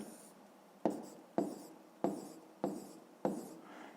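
Five sharp pen or pencil strokes tap and scratch on paper at a steady, unhurried pace while a fifth-grade math exercise is written out by hand, close and quiet with no voices.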